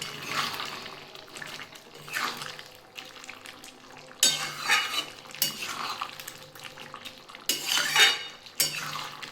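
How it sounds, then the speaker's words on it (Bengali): Papaya, potato and prawn curry stirred in a pan, with loud metal spoon scrapes and clinks in distinct bursts over a low sizzle, close up and without speech. "নেড়ে একটু নাড়িয়ে দিলাম"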